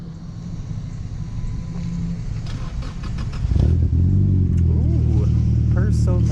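A car engine idles, then cranks and fires up midway, settling into a loud, steady rumbling idle close by.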